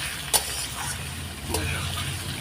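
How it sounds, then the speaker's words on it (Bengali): Steady hiss and crackle of potatoes frying in oil, with a couple of brief clinks from stirring, no speech. "আমার আলুগুলো তো ভাজা বসিয়ে দিয়েছি"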